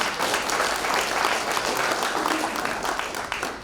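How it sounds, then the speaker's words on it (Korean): A crowd claps in sustained, dense applause at the launch ceremony of a committee for a statue of Syngman Rhee at Gwanghwamun Square, loud and even before tapering slightly at the end. "여러분 이때 박수 한번 치지 않습니까?"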